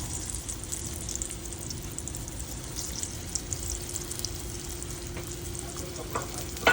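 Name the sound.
pomfret fish frying in oil on a pan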